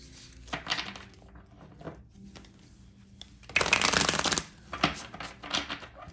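Tarot cards being shuffled by hand in a few quick riffling bursts, with one long, loud shuffle in the middle, close and clear with no talking.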